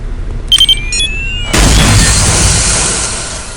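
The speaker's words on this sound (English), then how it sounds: "Once a radio bomb is planted, take cover and press your fire key to detonate the bomb." A radio-controlled bomb detonates in a video game: a few short electronic beeps and tones, then a sudden loud, broad explosion that rumbles on and slowly fades.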